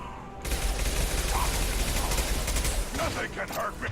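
Rapid gunfire in the Mass Effect 2 game, a dense continuous burst of shots starting after a brief quiet and running for most of the clip, with a voice talking faintly over it near the end.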